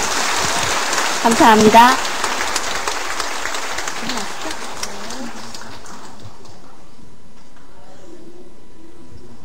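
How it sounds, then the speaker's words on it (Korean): An audience claps for the author at a book launch event in Korea. A burst of applause peaks early and then fades into quiet room tone, and a voice speaks briefly over it. "여기 저자이신 박근혜님과 함께 해주신 분들께 힘차게 큰 박수 부탁드립니다"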